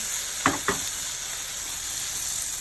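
Chicken sizzles steadily on a hot grill, a continuous frying hiss with two soft knocks near the start.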